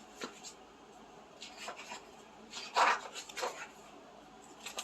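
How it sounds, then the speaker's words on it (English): A pencil scratches across paper in short, soft strokes and rasps as an animal is traced onto a paper grid, faint and close with brief louder scrapes and no talk. "trace out this animal on this paper grid"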